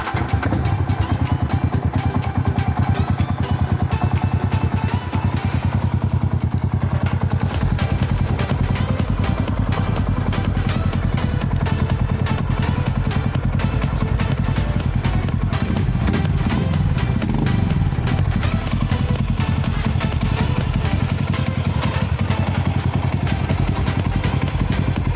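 A Yamaha Sniper 150 motorcycle, freshly changed to Amsoil 10W-40, starts and runs steadily for about 25 seconds, a loud continuous engine drone with light mechanical clatter and no talking over it.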